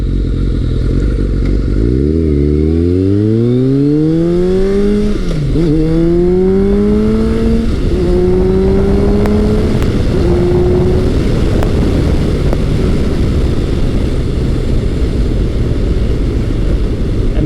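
Kawasaki ZRX1100 retro motorcycle accelerating hard through the gears, engine pitch climbing and dropping with each shift, loud and close with steady wind and road noise throughout.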